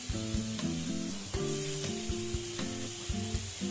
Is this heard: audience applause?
no